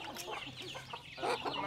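Chickens clucking and murmuring close by, a busy flock with overlapping calls and short squawks, no talking.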